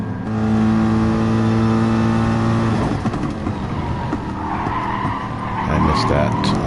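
A race car in a racing game brakes hard at the cones, tires screeching and skidding loudly after a steady engine drone, with the engine note shifting as it slows.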